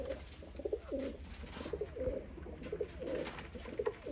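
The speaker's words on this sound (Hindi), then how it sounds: "सियालकोटी कबूतर सियालकोटी मादी जे" A female Sialkoti pigeon coos close by in a quick series of soft, rolling coos repeated at a steady rhythm, fairly quiet, with no talk.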